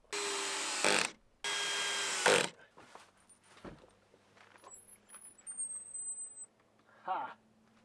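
A power driver sends screws into a wooden window frame in two loud whirring bursts, then softer handling knocks and a brief shorter burst near the end, with talking between.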